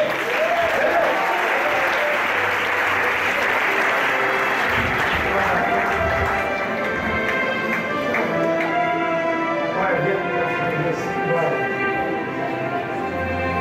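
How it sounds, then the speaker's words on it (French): Sustained applause in a church for the group Zilé during an Easter Sunday service, a dense crowd clapping that starts loud and gradually thins, with voices and a faint tonal background underneath. "On peut acclamer le groupe Zilé"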